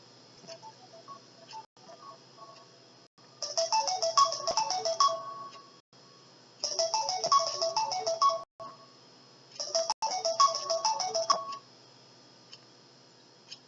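A mobile phone ringtone rings in three loud bursts of a repeating melodic pattern, with quieter ticking tones between them, heard alone with no talking.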